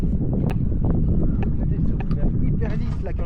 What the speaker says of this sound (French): d'un coup le vent s'est levé